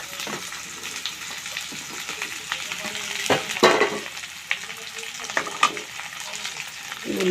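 Chopped onions frying in oil in a pan, a continuous sizzle broken by scraping stir strokes and a few sharper crackles, close and moderately loud.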